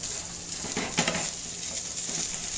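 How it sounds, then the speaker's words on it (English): Turkey pieces sizzling steadily in a hot pan while being stirred, a constant close frying hiss with a few soft scraping strokes of the utensil against the pan. "we're going to stir our turkey"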